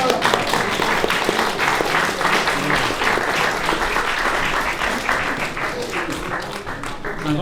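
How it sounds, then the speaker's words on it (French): Audience applause at a cycling club trophy ceremony, dense sustained clapping from a crowd that holds steady and fades slightly toward the end, with voices faintly underneath. "On peut peut-être applaudir quand même."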